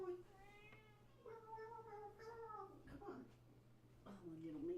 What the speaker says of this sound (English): I'm gonna go feed my cat.